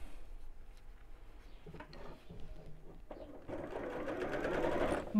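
Sewing machine stitching across the bottom of a simple messenger bag, a faint motor hum that builds into a steady, rapid stitching rattle in the final two seconds.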